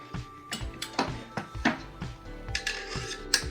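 An AR-15 charging handle slides into the upper receiver with scraping metal rubs and a few small clicks, close and clear.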